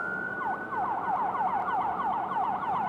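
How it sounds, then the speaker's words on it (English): An ambulance siren wails below an airport at Raleigh-Durham, its rapid repeating yelp steady and moderately distant over low ambient rumble. "And you guys hear the ambulance down below."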